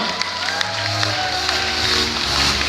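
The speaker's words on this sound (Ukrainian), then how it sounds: "Оплески, будь ласка" An audience at a student award ceremony applauds and cheers after a group is named, a dense, continuous wash of clapping from a sizeable crowd with scattered louder claps.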